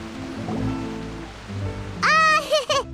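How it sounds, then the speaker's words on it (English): Rain in the video game Genshin Impact, a soft steady patter in the background, joined near the end by a brief burst of animated game voice or music. "Oh, it's raining."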